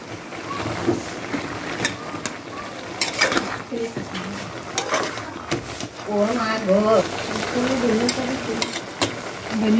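Gourd greens are stirred into fish head and potato in a hot pan, a scraping, rustling stir over a low sizzle with someone talking over it.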